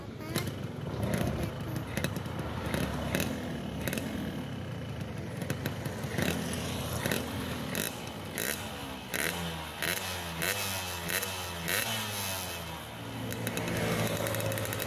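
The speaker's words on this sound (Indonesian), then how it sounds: "suara high revnya dari motor dua tak tuh asik gitu di kuping." A two-stroke motorcycle engine, run on Unirace Sport 2T oil, revs high with rising and falling pitch sweeps and a rattly, raspy edge, loud and close throughout, with no talk over it.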